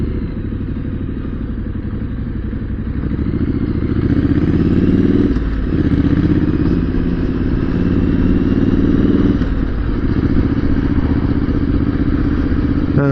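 A motorcycle engine drones steadily while riding, loud and close, with wind rumble and a couple of brief dips as the revs shift.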